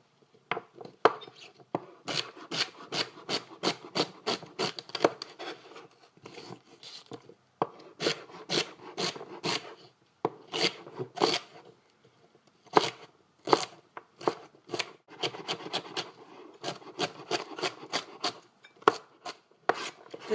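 A sharp ceramic knife chops food on a board in quick, crisp bursts of rapid taps, separated by short pauses, close and clear with no talk over it.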